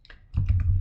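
A few quick computer keyboard keystrokes tapped close by in a short, uneven burst, entering a web address, with a low hum underneath and no talking.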